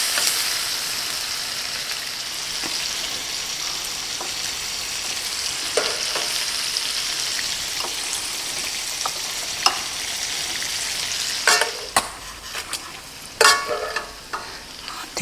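Shrimp and scallops sizzle steadily in a hot stir-fry pan, a continuous bright frying hiss broken by occasional clicks and scraping stirs that grow busier toward the end.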